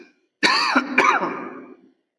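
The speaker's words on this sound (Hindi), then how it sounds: "थोड़ा खांसी आ रही" A man coughs twice in close succession, a loud, rough burst followed by a second, trailing cough that fades out, up close in an otherwise quiet indoor teaching setting.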